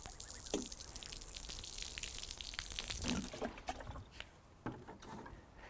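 Water splashes and trickles onto an imprinted concrete driveway to wet a patch, a soft close patter with scattered drips, fairly faint against outdoor background.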